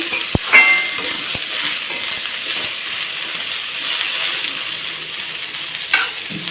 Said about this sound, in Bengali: এটা সুন্দর ভাজা হতে হতে আমি এর মধ্যে একটু লবণ দিয়ে দিচ্ছি